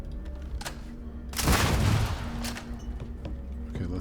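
Gunfire in the video game Starfield, a single burst of shots near the middle over steady game background ambience.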